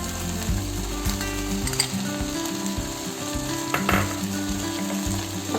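Ginger garlic paste and chopped tomatoes fry in a hot pan with steady loud sizzling, while a spoon scrapes and stirs in short repeated strokes throughout, with no voices.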